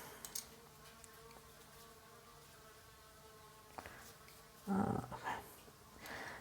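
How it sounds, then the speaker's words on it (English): Faint insect buzzing from bees at the back of a house near an open door, a thin steady drone with brief clicks and a louder rustling burst near the end. "Interesting about the bees"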